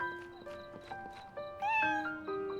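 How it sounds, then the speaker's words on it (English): Cat meowing in the fantasy video game TIES: Soul Link over a steady musical drone, with a couple of short meows and a rising, drawn-out call near the middle. "Meow."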